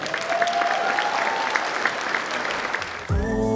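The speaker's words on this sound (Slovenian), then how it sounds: "dajmo jim nameniti en velik aplavz" A crowd applauds at a school graduation dance, with dense, steady clapping and a few voices mixed in, cut off near the end by the start of music.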